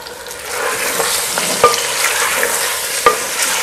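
Chicken gizzards and tomato sizzle steadily in a hot pan while a spoon stirs them, with a couple of sharp clinks against the pan standing out over the continuous frying hiss.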